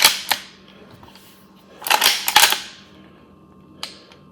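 The lever action of a stainless steel Rossi R92 rifle in .38/.357 Magnum is worked, giving sharp metallic clacks and a quick cluster of racking snaps, with quiet gaps between, close to the microphone.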